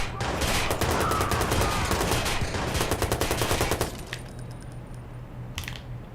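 Rapid bursts of automatic gunfire from Watch Dogs crackle densely for about four seconds, then thin into scattered shots and metallic clinks over a steady low game hum.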